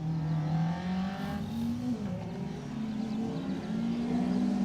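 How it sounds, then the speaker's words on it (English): A BMW rally car powers along a stage of the 2023 Rali Menai Stages, its engine a loud, steady drone that rises and dips as it revs, close and continuous with no talking. "Macaulay Crone and Daniel Jones behind them in their BMW."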